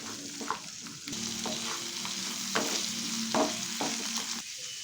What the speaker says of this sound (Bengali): যতক্ষণ পটলের কুচিটা ভাজা হচ্ছে